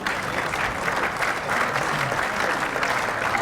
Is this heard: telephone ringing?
no